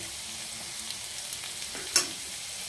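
Pieces of taro root fry in heated oil in a pan, giving a soft, steady sizzle throughout, with one brief louder clatter near the end.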